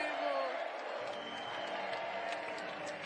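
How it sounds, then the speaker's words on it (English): A crowd at a lead climbing semi-final in Madrid chants a climber's name, a steady, dense mass of voices that fills the whole stretch at an even, loud level. "And the crowd are chanting his name."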